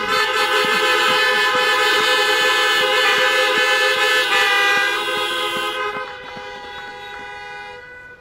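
A car horn honking in celebration at a physician assistant graduation, held as a steady, loud blare for about six seconds before easing off, with a quieter horn carrying on underneath to the end.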